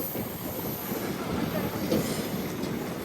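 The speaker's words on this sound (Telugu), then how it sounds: "ఇప్పుడు మనం ఇప్పుడు రోడ్ కమ్ రైల్వే బ్రిడ్జ్ వైపు వెళ్ళిపోతున్నాం" A train rumbles steadily across the Rajahmundry road-cum-railway bridge, a dense continuous roar with rhythmic wheel clatter, heard close from inside the carriage.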